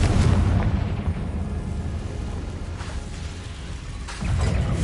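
The Confringo fire spell explodes in Hogwarts Legacy with a loud booming blast and a broad rumbling roar that fades, then a second surge of noise near the end.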